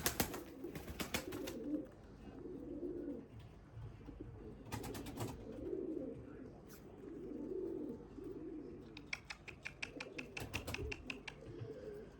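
Limoni breeding pigeons coo in low, rolling phrases close by, repeating steadily, broken by several bursts of rapid clattering flutter or wing beats.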